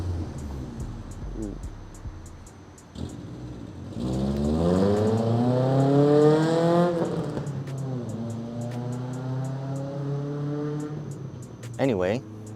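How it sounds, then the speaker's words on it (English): A Honda Civic revs and sweeps past, its engine note climbing in pitch as it nears and then settling into a fading drone; a person exclaims briefly as it goes by. "That is a Civic."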